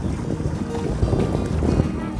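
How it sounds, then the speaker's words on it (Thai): Strong wind blows across Hat Mano Phirom, a riverside beach in Wan Yai, Mukdahan, as a steady, moderately loud rushing rumble on the microphone with gusty swells. "ลมก็แรง"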